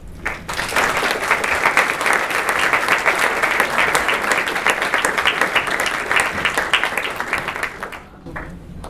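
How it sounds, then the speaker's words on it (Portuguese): A lecture audience gives loud, sustained applause for the first speaker at a Shakespeare talk: dense clapping from many hands, close and even, tapering off at the end. "eu gostaria de pedir uma salva de palmas para o nosso primeiro palestrante"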